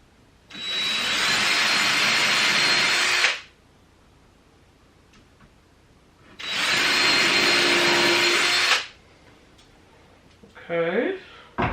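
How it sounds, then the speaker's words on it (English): A power drill runs in two loud, steady bursts of about three seconds each, separated by a quiet pause, during work on a short span in a studio; a brief voice-like sound follows at the end. "Don't drop the drill."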